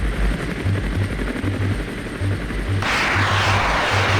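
A Mi-24 attack helicopter engages ground targets in a town in the Armored Brigade 2 war game, its close, steady rotor and engine drone carrying low rhythmic thumps throughout.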